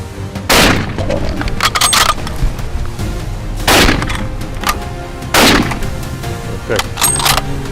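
Rifle shots ring out during a saltwater crocodile hunt in Northern Australia, three loud, sharp reports a couple of seconds apart with reverberating tails between them.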